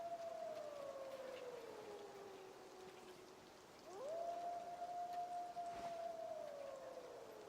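Two drawn-out howls from a gray wolf in the hunting game Way of the Hunter, the first gliding slowly downward, the second rising sharply then holding steady before tapering, set against a soft hissing rain-like background.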